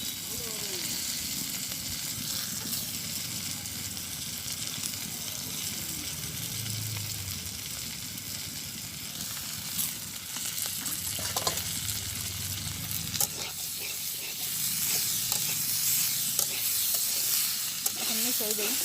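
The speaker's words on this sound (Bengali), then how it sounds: "আর একটু তেল দিয়ে দিই। আমি কয়েক পিস মাছ দিয়ে দিচ্ছি।" Pieces of fish frying in hot oil, with a steady, dense sizzle close by that runs unbroken throughout, with a few utensil clicks and scrapes toward the end.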